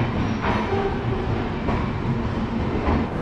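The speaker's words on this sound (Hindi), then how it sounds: "तो अपनी ट्रेन आ गई है प्लेटफॉर्म नंबर 2 पे।" A passenger train rolls along platform 2 at an Indian railway station with steady, loud rumbling and rattling for the whole span. No one speaks over the noise.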